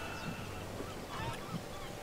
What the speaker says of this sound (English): you'll see seagulls circling